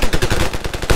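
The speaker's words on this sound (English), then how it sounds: "Gotta use my sniper." Gunfire in the video game Ravenfield, loud and close: a rapid string of sharp cracks about a tenth of a second apart, filling the whole short moment.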